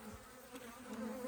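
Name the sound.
honey bees buzzing during a hive inspection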